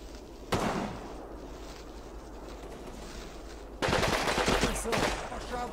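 Gunfire in the World War II video game Combat Mission, with snipers using a G43 rifle. A sharp shot rings out, then rapid crackling bursts of rifle fire follow later, fairly loud over a quiet background.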